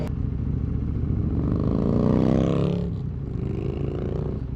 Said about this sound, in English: That bike sounded nice. What was that, a Road Glide? Ultra Glide?